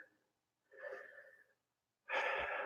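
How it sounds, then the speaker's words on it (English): Slow, audible breaths in and out during a yoga forward fold, two soft airy exhalations separated by silence, close to the microphone with no talking. "Let yourself breathe."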